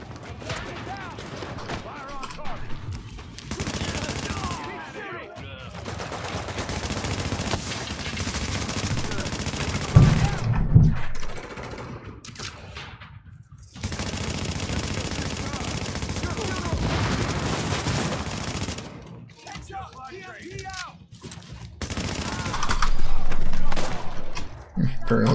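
Gunfire in The Division video game, with repeated bursts of automatic rifle fire and shots in loud stretches, separated by brief gaps, while a player talks throughout.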